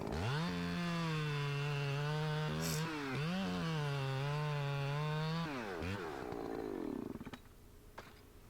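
Chainsaw with a sloppy, dull chain cutting poplar timber in a tight spot, engine roaring loud and steady for several seconds with pitch dips as it bogs in the wood, then winding down to idle and a few clanks.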